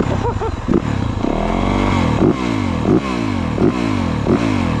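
A Yamaha YZ-F GYTR 450 dirt bike at an MX Pro Tour event revs hard and loud, its engine climbing and falling in repeated bursts with a pronounced airbox intake roar, each blip rising sharply before settling back to a rough idle.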